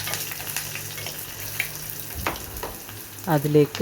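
Green chillies and onion frying in oil in a pan, with a continuous close sizzle and a few stirring scrapes, and a short spoken word at the end.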